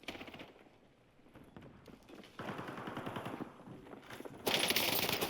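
FFAR rifle firing in the Warzone video game, with rapid automatic bursts at moderate volume that swell louder in the final second.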